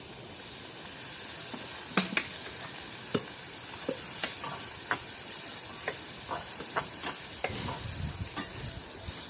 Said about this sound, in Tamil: பாருங்க உருளைக்கிழங்கை இப்படியாக நசிக்கவும்